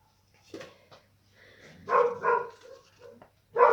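A dog barks indoors in a printmaking studio, giving a few short, uneven yips and barks at moderate distance.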